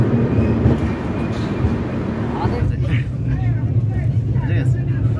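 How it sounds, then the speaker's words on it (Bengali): The Agartala Garib Rath Express rolls along near Dum Dum station out of Kolkata, a loud steady rumble and rattle of the carriages heard from inside, with voices talking over it. "আমাদের ট্রেন এখন দমদম স্টেশন ক্রস করছে"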